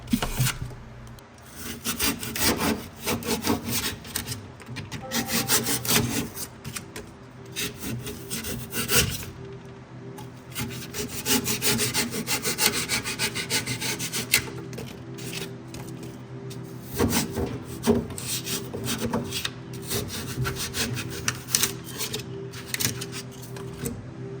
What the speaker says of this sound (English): After the foam cured, I carved it into a flat ledge.